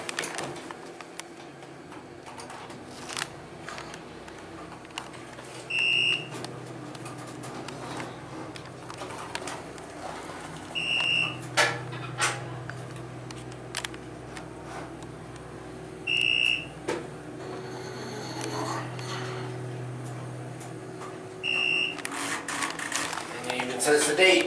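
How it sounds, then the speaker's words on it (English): A modernized Westinghouse hydraulic elevator, now by Schindler, in One Oxford Centre, runs its motor as a faint, steady low hum beneath voices, with a few short electronic chimes. "now listen to the motor"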